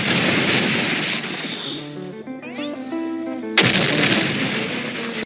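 A cartoon explosion from SpongeBob SquarePants: a loud, roaring burst, then a brief falling whistle and musical sting, followed by another heavy booming blast, with no talking.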